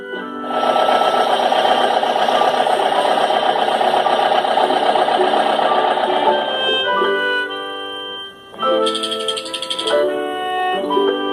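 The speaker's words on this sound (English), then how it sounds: "Excavator." An excavator engine runs in a loud, steady mechanical drone for about six seconds, then stops and light music continues.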